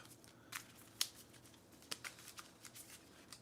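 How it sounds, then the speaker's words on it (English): Quiet crisp riffling and flicking of playing cards being shuffled during a Dice Throne board game, a series of short irregular snaps close by. "So we shuffle these up"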